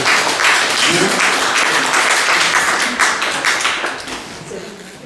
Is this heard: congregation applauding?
yes